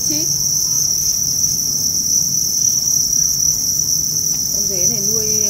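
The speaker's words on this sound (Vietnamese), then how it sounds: "cái thùng dế chuyên lấy trứng cho bà con, dế đẻ ngút ngàn" Crickets in a breeding box on a farm chirp in a loud, constant high-pitched trill, many insects together with no pause.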